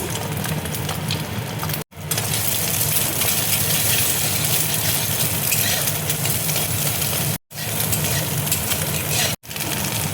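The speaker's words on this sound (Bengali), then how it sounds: "এবার দেখো ডিমটা আমি ভেজে নিচ্ছি।" Steady, loud frying hiss and crackle of an egg cooking in hot oil in a kadai, continuous apart from a few abrupt brief cuts.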